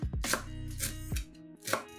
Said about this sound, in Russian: Берем пучок петрушки и укропа и мелко шинкуем его ножом.